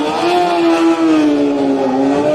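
An old Yamaha racing motorcycle at the Manx Grand Prix Junior race screams past at high revs, one steady, loud, buzzing engine note with a slight downward shift, close by and alone.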